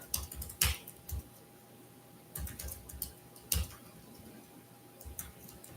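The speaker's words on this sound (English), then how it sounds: "I'm gonna type in the chat" A few scattered keystrokes tap out a chat message on a keyboard, sparse clicks spaced apart over a steady low electrical hum.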